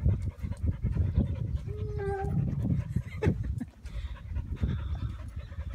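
Tired dogs panting heavily after exertion, a steady rapid breathy rhythm close by, with a brief whimper-like whine and a person's voice now and then.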